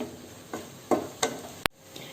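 Cooked, cooled rice is stirred into chicken fried rice in a pan: a few quick scraping strokes over a light sizzle, ending with one sharp metallic click.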